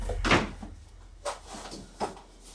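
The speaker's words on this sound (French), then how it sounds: "The door!" A door is handled in a few quick, fairly close knocks and clunks, one heavier thump followed by two lighter bumps, with no talk over them.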